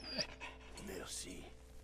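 A dog in the video game Valiant Hearts: The Great War pants and whimpers faintly over quiet background game sound, a brief, soft breathy rasp with small whining tones.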